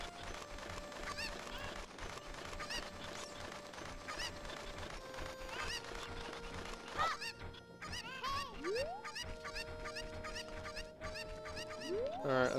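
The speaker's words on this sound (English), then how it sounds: "My cuckoos have run away." Cucco chickens in Zelda: Ocarina of Time cluck and squawk in repeated bursts over game music, with several rising cries near the end.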